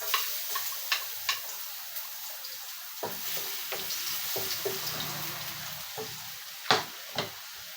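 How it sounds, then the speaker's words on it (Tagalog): Food sizzles as it is sautéed in a pan, with a steady hiss and scattered sharp ticks and scrapes from stirring. The sounds are close and moderately loud, with no voices. "magigisa na tayo"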